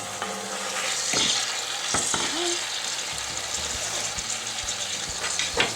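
A pot roast browns in a hot pan, giving a continuous loud sizzle with occasional clanks and knocks of a utensil against the pan.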